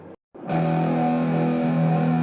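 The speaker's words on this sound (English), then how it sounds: "the sound we're all used to hearing when we play distortion is that it's really good for power chords" An electric guitar power chord played through a Source Audio distortion pedal, one loud, thick, sustained crunch after a brief silence.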